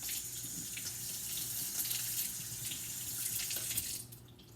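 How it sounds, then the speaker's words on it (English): A kitchen sink faucet runs steadily as hands are washed under the stream, a close continuous hiss of splashing water that tapers off near the end. "Let me wash my hands off."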